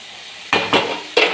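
Spoon scraping and clanking against a kadai while stirring spicy chicken curry with chili powder, masala and salt, three sharp metallic knocks close by over a low background hiss.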